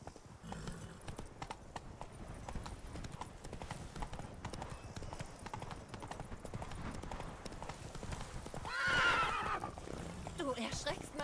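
A horse in a video game whinnies and its hooves clip-clop steadily on a farm estate, close and clear, with a louder neigh near the end and a person talking over the game sounds.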